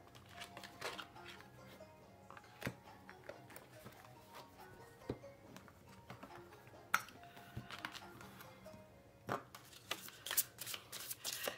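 Tarot cards being shuffled and put back into the deck during a love reading, giving a steady run of close riffling and slapping card sounds with short sharp snaps, no talking over them.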